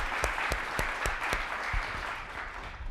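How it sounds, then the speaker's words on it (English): Audience at an industry and tech transfer panel applauding the panelists, with several sharp, distinct nearby claps punctuating a steady spread of applause that gradually thins out. "Let's give them a hand of applause."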